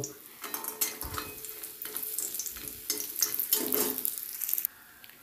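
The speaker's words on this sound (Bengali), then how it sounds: "আমি এটা কিছুটা বড়ি দিয়ে লাল লাল করে ভেজে তুলব।" Lentil bori frying in hot mustard oil in a kadai, with sizzling crackle broken by scraping stirs and clinks of a utensil against the pan, close by and uneven.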